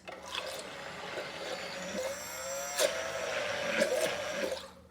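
A battery-powered Flex multi-prep mixer whirs steadily while beating eggs, a continuous motor drone with a few brief louder knocks and surges, close by with no talk.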